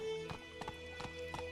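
Roach, the horse in the video game The Witcher 3, gallops in an even rhythm of hoofbeats, four evenly spaced strikes over a sustained musical drone.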